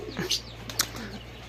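Soft pigeon coos and a few brief chirps and wing flutters, faint against a low steady background hum, as a typhoon approaches.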